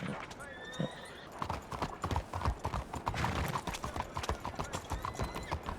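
Horse hooves clip-clopping in a video game, a quick, steady run of close hoof clops, with faint mechanical whirring early on.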